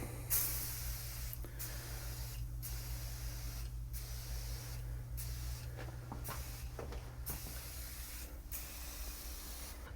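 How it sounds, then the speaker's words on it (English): Bedlam bed bug insecticide sprayed onto furniture in several hissing bursts, each a short broadband spray followed by brief pauses, over a steady low hum throughout. "Once you spray this product"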